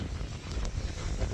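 Steady rushing wind buffeting the microphone in San Diego, a dull continuous roar with no other clear sounds.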